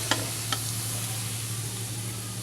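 Onions fry in hot oil in a broad, steady sizzle, with two quick scraping stirs near the start, no talk.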